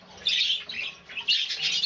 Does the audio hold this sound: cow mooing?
no